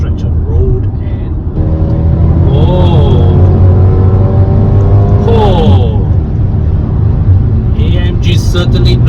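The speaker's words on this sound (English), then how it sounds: "AMG isn't without the proper sounding engine" Engine of a 2023 Mercedes-AMG GLA 35 with a 2-liter turbo rises in pitch as the car accelerates, a loud steady drone with gear-change dips, with bits of voice near the end.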